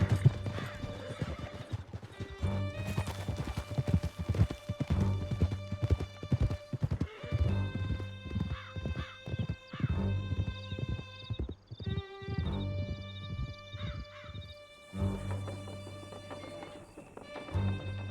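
Horses gallop with steady clip-clop hoofbeats and repeated whinnies in Red Dead Redemption 2, loud and continuous over a music bed, with no talk.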